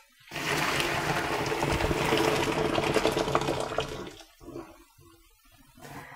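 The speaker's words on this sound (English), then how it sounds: "I'm going to strain those, and then we're going to mash the potatoes" Water from a pot of boiled potatoes pours out in a steady, close rush for about four seconds, then tapers into a few drips and light kitchen clatter.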